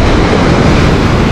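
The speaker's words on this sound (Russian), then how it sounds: "Вот такие вот волны" Loud sea surf rolls and crashes without pause at Flamingo beach in Lazarevskoye, Sochi, in December, with a broad, close roar and some wind buffeting the microphone.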